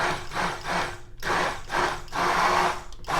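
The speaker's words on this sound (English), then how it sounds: "we're going to put our immersion blender all the way down to the bottom of the cup and start out pulsing it" An immersion blender pushed to the bottom of a cup pulses homemade mayonnaise ingredients in short whirring bursts, several quick on-off pulses followed by a longer run, close and fairly loud.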